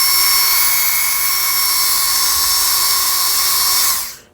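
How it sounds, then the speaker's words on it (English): An electric screwdriver fitted with a 1/16 drill bit bores into plastic, a loud, steady high-pitched whine held for about four seconds before spinning down and stopping. "When I drilled the hole through the block into the plastic, I'm using a 1/16 drill bit"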